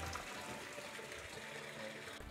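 Water pours steadily into a hydroponic tank to add aeration, a continuous close gushing splash that runs without a break and stops abruptly.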